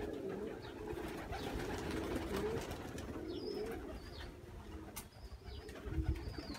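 A pigeon sitting on its young chicks gives soft, low, repeated coos over a faint, noisy background, with occasional light chirps.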